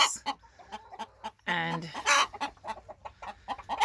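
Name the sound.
chickens clucking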